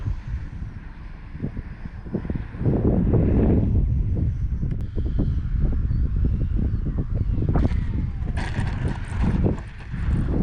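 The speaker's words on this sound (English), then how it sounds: "Wow, is it windy." Heavy wind buffets the microphone in a loud, continuous rumble at an outdoor flying field during a FlyFans L-39 64mm RC model jet flight, with gusts and faint clicks and rattles underneath.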